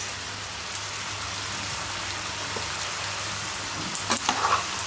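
A spoonful of ghee sizzles in a cooking pan, a steady soft hiss with a few faint clicks and a brief louder crackle near the end.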